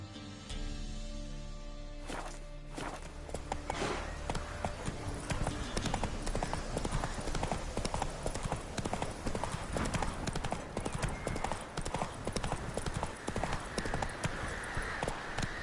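Steady hoofbeats of a horse ridden through a small town in The Witcher 3: Wild Hunt, a dense continuous clip-clop after a brief quieter opening, with someone speaking over it.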